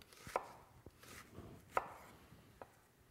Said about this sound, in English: using the tip of my knife, I come through the onion